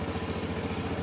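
A 2004 Honda Metropolitan scooter engine idles close by with its air intake box cover missing, giving a steady, fast mechanical putter with light clatter and no talking.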